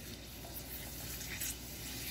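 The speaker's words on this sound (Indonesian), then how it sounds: "Kerupuk udangnya dulu mami goreng." Indonesian shrimp crackers frying one at a time in hot oil in a home kitchen, a quiet, steady crackling sizzle running continuously without talk.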